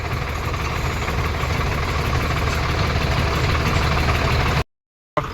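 An Indo Farm tractor engine runs at a steady, continuous idle with a close rumbling drone, briefly cut off near the end.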